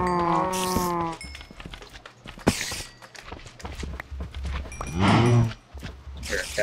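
Several cow moos from a video game, one long harmonic low at the start and another later, with soft footsteps and scattered game sounds between them.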